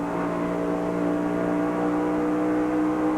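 A 1996 NASCAR stock car engine roars steadily in the Coca-Cola 600 at speed. The whine is loud, continuous and droning, with no talk over it.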